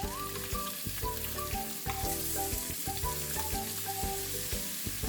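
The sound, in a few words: salmon and shrimp seafood mix frying in a pan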